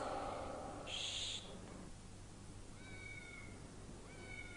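Cartoon cat meowing behind a restaurant kitchen door, a few bright high-pitched mews around the one-second mark over steady background noise, followed by faint chirpy calls.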